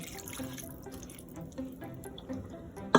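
Half a cup of water is poured into a tourtiere meat mixture in a pan, a soft trickling and dripping of liquid over a quiet kitchen background, ending with a sharper splash.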